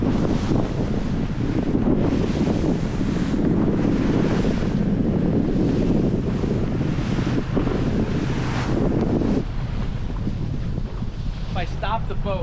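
Rough sea around an express cruiser off Oxford, Maryland: constant roaring wind buffeting the microphone over crashing, surging waves against the hull, loud and close throughout, with a voice calling out briefly.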